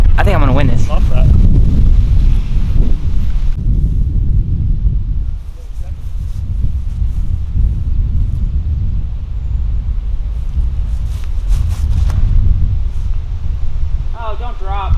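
Strong headwind buffets a microphone on an outdoor golf course, loud continuous low rumbling gusts that ease slightly midway, with brief chirping birds now and then.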